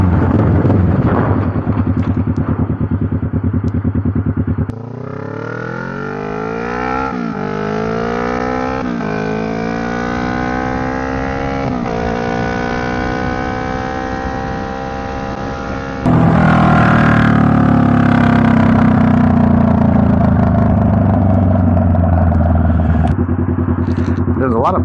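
A motorcycle engine revs up and down after an ignition coil test, rising and falling in pitch through several throttle blips with a louder burst toward the end, and someone talks over it.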